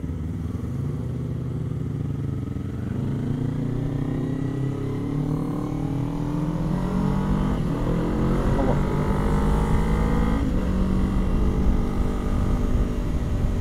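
A Kawasaki Ninja 250 motorcycle accelerating in a long first gear, its engine rising steadily in pitch and loudness over several seconds, heard up close from the rider's position amid wind noise.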